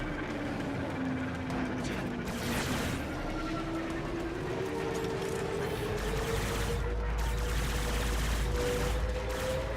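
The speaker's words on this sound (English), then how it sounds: "So one shot, it fires like 2 shots, sometimes 3" Multi-shot gunfire in the sci-fi video game Warframe sounds as dense, sustained bursts of firing layered over a droning, humming background, staying loud and continuous throughout.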